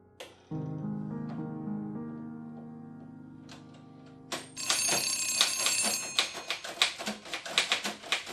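A telephone rings indoors, first with a sustained tone and then a loud, rapid repeating bell that jangles in uneven bursts, close and alone with no voices.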